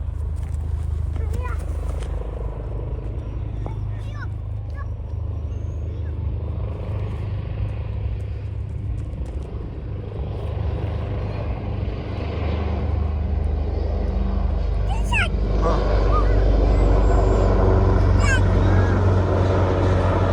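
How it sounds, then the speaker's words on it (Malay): A low, steady engine rumble from a helicopter flying overhead at a Royal Malaysian Air Force anniversary event, swelling louder toward the end, with voices talking underneath. "Ha tu helikopter. Helikopter bang, helikopter."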